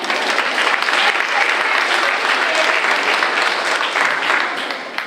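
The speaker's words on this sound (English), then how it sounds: "That's what you should have clapped on." An audience at an 8th grade school promotion ceremony breaks into loud, sustained applause, dense clapping from a large crowd that holds for several seconds and tapers slightly at the end.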